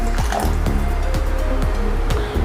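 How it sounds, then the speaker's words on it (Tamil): About two cups of water pour steadily into a pot of lentil dumpling curry, a continuous splashing fill with occasional gurgles, close and fairly loud, with no talking. "இப்போது இது கூடவே ஒரு 2 கப் அளவுக்கு தண்ணி சேர்த்துக்கோங்க"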